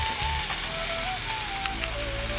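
Seer fish sizzling steadily on a hot tawa, a close, continuous crackling fry with a faint high tone running over it and no voices.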